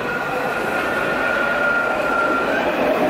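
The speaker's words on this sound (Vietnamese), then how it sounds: "Tramway." A tram runs along its rails with a steady loud rumble and a thin drawn-out wheel squeal over it, continuous for a few seconds.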